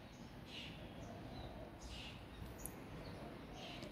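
Pet birds in a home garden give soft, scattered chirps at a few separate moments, faint and somewhat distant over a low, steady background hum.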